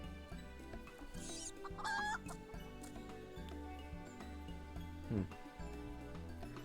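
Chickens cluck in short bursts over a dense, busy background, with a louder, sharper call near the end, fairly close and steady, with no voices over them.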